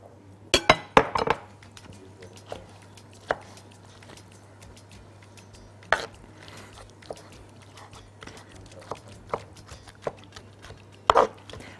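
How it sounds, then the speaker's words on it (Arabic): Roasted garlic and roasted peppers are minced in a bowl for a dip, heard as sharp, scattered clinks and chopping taps of a blade against the bowl, close and irregular over a low steady hum. "نفضل بقى نفرم فيه كده لحد ما ما يتهري خالص معانا"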